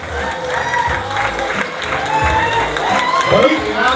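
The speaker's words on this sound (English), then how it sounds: "Everybody, clap your hands, make some noise" A wedding crowd claps and cheers steadily for the happy couple at an outdoor beach event, a dense, loud wash of applause and voices that holds throughout without pause.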